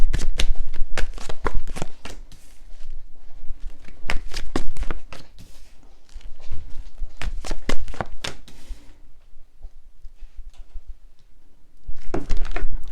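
Tarot cards being shuffled by hand, a close, dense run of riffling snaps and papery slaps in bursts, pausing briefly mid-way and resuming near the end, with no talking.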